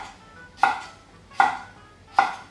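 A thick cucumber, halved and cut into rough chunks with a knife, gives three sharp, evenly spaced chops on a board, each a crisp close thud that trails off quickly, with no voice.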